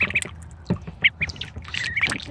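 A duck squawks and quacks during its bath, giving loud, close, irregular calls over splashing water with no talk.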